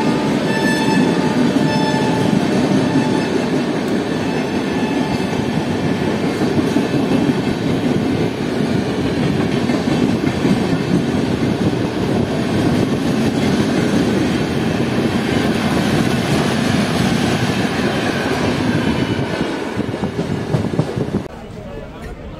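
A Radhikapur–Kolkata overnight express hauled by an electric locomotive passes through Kolkata station, a steady loud rumble of rail wheels and carriages rolling by close and continuous for the full length, easing slightly at the very end.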